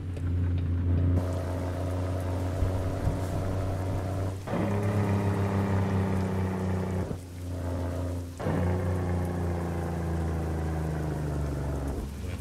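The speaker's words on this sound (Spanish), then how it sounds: "Aguacero se nos vino fuerte." Heavy downpour while driving a Kenworth W900 truck in American Truck Simulator: a steady roar of rain over a low engine drone, close and continuous, with a few brief dips in the hiss.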